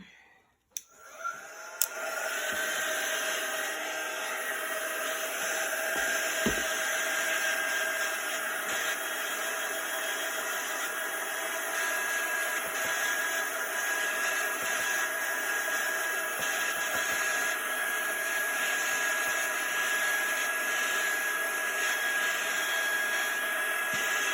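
A heat tool warms chalk paint on a craft project with a steady, continuous blowing hiss and a faint high whine, running alone for over twenty seconds after a couple of clicks at the start.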